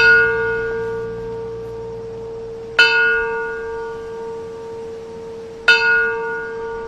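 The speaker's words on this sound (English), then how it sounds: "Bells rang 3 times this morning in Washington, D.C., one for each location terrorists hit on September 11th, 2001" A church bell tolls for a September 11 remembrance in Washington, D.C., each clear metallic strike ringing out and decaying slowly, heard three times at even intervals with the first strike already sounding at the start.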